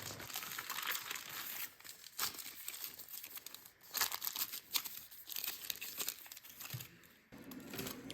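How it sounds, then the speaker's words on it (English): Aluminum foil crinkles and crumples as a burrito is rolled up in it, close and fairly quiet, in uneven bursts of rustling with short pauses between. "Now I'm just going to roll my burrito in some foil."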